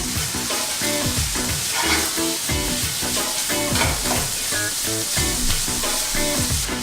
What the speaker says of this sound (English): you want to break your beef up and keep it moving